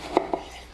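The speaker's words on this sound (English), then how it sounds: "I'm just gonna cut that eggplant into dices" Two quick knife chops on a cutting board as peeled eggplant is diced, close and distinct, a short beat apart.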